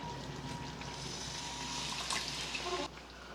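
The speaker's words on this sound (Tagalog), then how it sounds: "Lagyan ng tubig." A steady stream of water pours and splashes into a cooking pot nearby, continuous for a few seconds before stopping abruptly.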